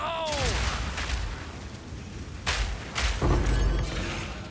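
Explosions in the Path of Exile 2 video game: a whooshing spell gives way to several loud, broadband bursts and booms that crash in at irregular intervals, sounding punchy and close.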